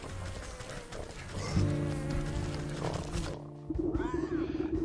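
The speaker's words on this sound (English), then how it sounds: "You can hear the runty swine squealing even before you see her." A small runty pig squeals in the indie game Wytchwood, with loud shrill cries and grunts over a layered game soundtrack; the noise drops out briefly and then returns.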